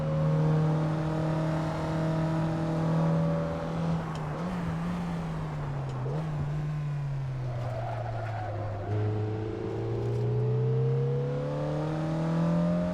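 Race car in Assetto Corsa held at full throttle, a loud, close engine drone climbing in pitch through upshifts and dipping briefly in the middle, with faint tire noise beneath.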